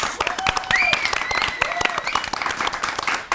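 A studio audience applauds, a dense burst of clapping with a few whoops and cheers rising over it, loud and close, fading out toward the end.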